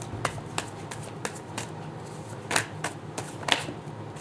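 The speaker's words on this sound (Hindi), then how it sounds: "फिर से शफल कर लेते हैं।" Tarot cards being shuffled by hand, close and fairly quiet, with a series of crisp riffling snaps spaced through the clip.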